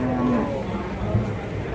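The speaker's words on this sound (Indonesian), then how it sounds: "Gede sapi ini, beneran." A large cow lets out a low, drawn-out moo amid the bustle of a cattle market in Babat, Lamongan, with people talking nearby over the background noise.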